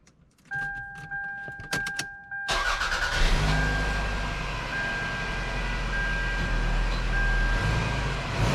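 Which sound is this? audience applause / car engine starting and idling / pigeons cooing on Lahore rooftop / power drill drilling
car engine starting and idling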